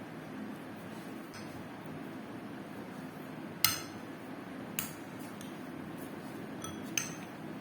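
Watermelon rind tutti frutti is stirred in a bowl, giving quiet, faint scraping with a few sharp clinks of a utensil striking the bowl at uneven intervals.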